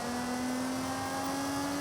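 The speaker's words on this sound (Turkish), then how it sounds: "Evet şöyle ufak ufak bir gazlayalım abi." A 2005 BMW M3 engine revs in the racing game Forza Horizon 5, a sustained, even drone held at steady pitch throughout, fairly quiet and alone without talk.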